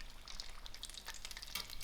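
Mushroom-filled half moon pastries frying in hot oil, a steady faint crackle and sizzle with scattered pops, no voices.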